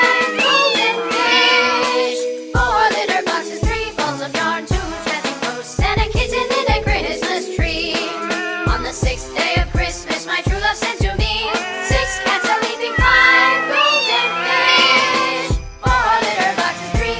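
A kitten meows again and again in varied, rising and falling cries, loud and close, with faint jingling bits among the calls and no talk over them.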